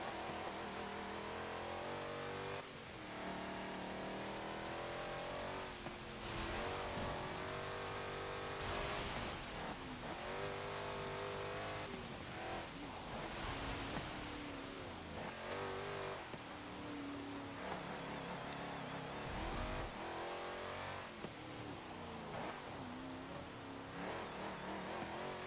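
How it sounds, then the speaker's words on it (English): A 2012 Jeep Wrangler Rubicon's engine roars and revs hard on a straight in Forza Motorsport 7, a loud, continuous drone that climbs and drops through repeated gear changes. "as soon as we get onto a straight, it does have plenty of acceleration"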